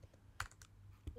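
Computer keys clack in a few quick, separate taps, close and sharp over a faint background hum.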